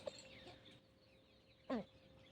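A hen gives a short cluck, then a louder, clearer cluck a moment later, both fairly close against a quiet background.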